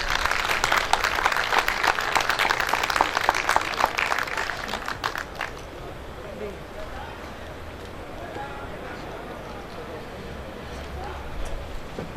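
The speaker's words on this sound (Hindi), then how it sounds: "मेरी मुराद है आपके और हम सब के पसंदीदा, मकबूल तरीन, मारूफ़ तरीन, बहुत प्यारी मनमोहनी शख्सियत जनाब इफ्तिखार रिफ़ी से कि वो भरपूर तालियों में तशरीफ़ लाएँ।" Applause at a mushaira poetry gathering welcomes a poet, dense clapping for about five seconds before fading into room murmur, with a voice speaking afterward.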